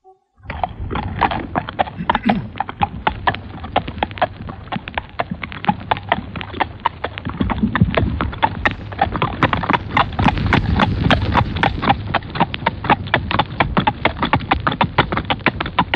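A running horse's hooves pound in a fast, steady clip-clop rhythm that fills the whole stretch, close and loud, with no talk.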